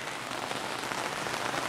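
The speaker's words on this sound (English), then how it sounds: "It's raining." Steady rain falls outdoors in a continuous broadband hiss of drops spattering on surfaces, close and even throughout, with no voices.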